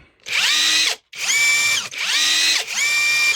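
Two impact wrenches, a budget AliExpress model and a Prostormer, whir in four short, high-pitched bursts separated by brief pauses, each burst rising and falling, loud and close.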